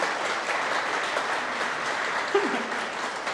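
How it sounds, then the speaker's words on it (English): Steady applause from an audience at a Women Techmakers tech conference opening in Montreal, an even, moderately distant wash of clapping with a brief faint voice partway through. "They deserve a round of applause."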